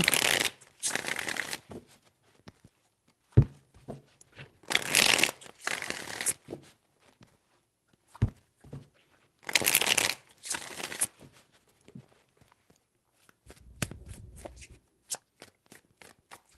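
Tarot cards shuffled in three separate bursts of crisp riffling, close and fairly loud, separated by quieter taps, slides and handling noises, with no voices.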